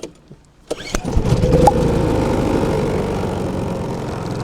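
A small gasoline engine on an outdoor 8-ton log splitter cranks briefly, then catches and roars to life, settling into a steady, loud running drone nearby.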